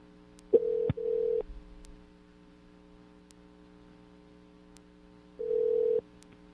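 Telephone ringback tones heard over a radio broadcast line: two short tonal bursts close together, then a pause and a third longer tone, over a faint steady hum.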